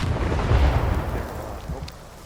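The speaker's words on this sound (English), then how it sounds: "Grenade." A grenade blast in the video game Stalker 2 opens with a loud, deep boom that rolls off into a fading rumble.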